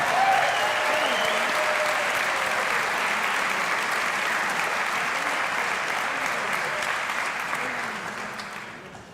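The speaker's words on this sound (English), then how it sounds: "Give them a round of applause." An audience at a Smithson Valley football state championship ring ceremony gives sustained, dense applause lasting about nine seconds, steady and loud before tapering off at the end.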